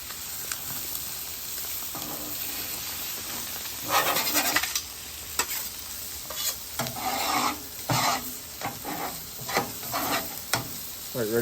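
Blackened catfish sizzles steadily on a Blackstone griddle, a close, constant frying hiss. Repeated scraping and spatula strokes cut through it in irregular bursts, with no talking.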